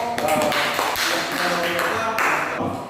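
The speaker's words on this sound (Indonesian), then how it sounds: "Baik, aplaus lagi untuk kita kelompok." Classroom applause for a student group after their physics presentation on projectile motion, a dense, steady patter of many hands clapping at close range for about three seconds, with a few voices mixed underneath.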